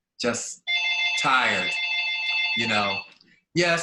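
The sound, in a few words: telephone ringing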